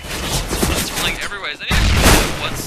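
Bursts of AK rifle fire in Counter-Strike: Global Offensive come as dense, loud, rapid shots packed against one another, with a brief gap before a second heavy volley, all under excited commentary from a casting voice.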